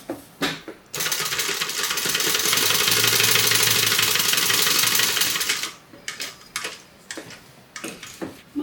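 A sewing machine bastes the top of a crossbody bag closed, one steady mechanical run of rapid stitching lasting about five seconds, bracketed by short bursts of handling and fabric noise before and after.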